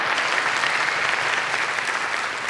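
An audience at a live podcast taping in Springfield, Missouri bursts into dense, steady applause, loud and close, sustained throughout without a break.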